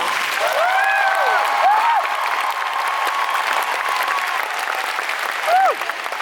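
Convention crowd at RTX Austin clapping to vote in an onstage contest, a dense sustained wash of applause and cheering that holds steady throughout while voices call out over it.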